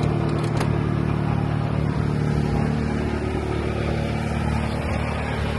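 Old GM Saturn four-cylinder car with 92,000 miles idling loudly, a steady rough low drone that holds unbroken from start to finish, close by and without talk.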